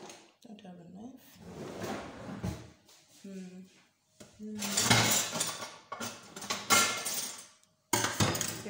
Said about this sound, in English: Let me first get my knife.